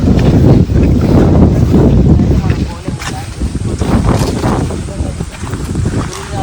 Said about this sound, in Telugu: గాలి అయితే వస్తుంది. గాలి వస్తుంది